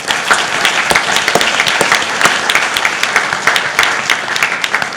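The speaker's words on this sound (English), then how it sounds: "they really do deserve a big round of applause." A conference audience breaks into loud, sustained applause, dense clapping from many hands filling the room at close range with no speech over it.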